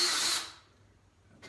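A power drill countersinks a hole in wood while building a hutch, giving a short, loud high-pitched whir that winds down within half a second, followed by quiet and a brief renewed burst.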